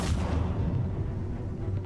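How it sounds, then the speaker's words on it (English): Gunfire in the Batman: The Telltale Series video game, a dense run of booming shots merging into continuous loud rumble with no clear gaps. "It's a lot of gunshots, bro."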